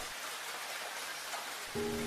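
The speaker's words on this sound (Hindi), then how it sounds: "जोरदार बारिश हो रही थी, इसलिए सामने ठीक से दिखाई नहीं दे रहा था।" Heavy rain pours down around a car on a road, a broad, steady hiss of falling water that runs unbroken, with a tonal hum coming in near the end.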